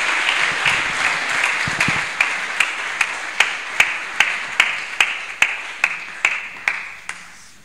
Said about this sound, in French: Acclamons le Seigneur pour leur libération